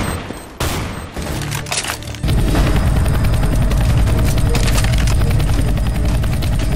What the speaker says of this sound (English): Oh, you're shooting from the windows.